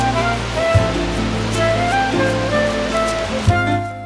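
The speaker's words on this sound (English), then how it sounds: "Next we stop at Shannon Falls, the second biggest waterfall in Canada." Shannon Falls waterfall in British Columbia, a steady broad roar of falling water with a constant wash of spray, loud and continuous, with no voices.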